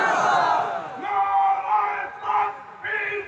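A large crowd at a political rally shouts slogans back in unison in response to a leader. Several loud, drawn-out chanted phrases follow one another in a rhythmic call-and-response pattern.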